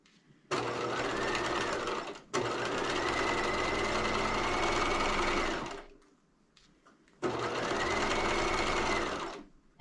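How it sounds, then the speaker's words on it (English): A sewing machine stitches fabric for a garrison hat in three steady runs of whirring motor hum, separated by short pauses, close and clear with no talk. "So I'm gonna start stitching"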